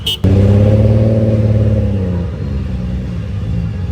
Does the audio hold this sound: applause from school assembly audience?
no